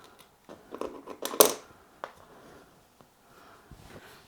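Double-sided tape being cut off during a floor gap repair, heard as a few short, close snips and crisp clicks with a small tearing rustle, followed by quieter handling noises.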